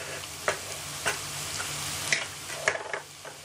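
Fried onion in a pan as garlic and green chili paste are stirred in for a Punjabi soya chunks curry, a soft continuous sizzle with a few light scraping knocks of the spoon.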